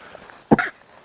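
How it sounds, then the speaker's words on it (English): A woman's sneeze, recorded during a knitting podcast: one short, sharp burst near the mic that rises and falls quickly, set in a quiet room. "I'm going to sneeze real quick."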